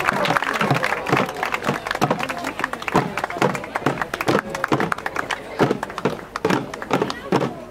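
An audience at a children's marksmen festival in Spaubeek claps in a loose, uneven rhythm of sharp hand slaps, close and fairly loud, with voices talking over it.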